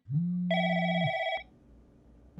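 A phone ringing in the game Replica: a single electronic ring, a low tone stepping up to a higher bright tone, clear and close, then cut off.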